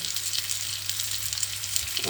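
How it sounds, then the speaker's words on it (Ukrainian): Sliced sausage sizzling in a frying pan, a steady crackling hiss with scattered pops, close up and continuous under a low background hum. "Посмажила ковбасу"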